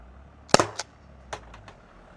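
A less-lethal home defense launcher fires a single round, a sharp close crack followed by a few fainter clicks and impacts, with no talk.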